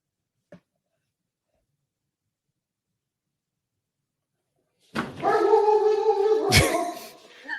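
A big dog barks and growls close by in a loud burst after a long quiet stretch, the sound sustained and rough with a sharp break near its end.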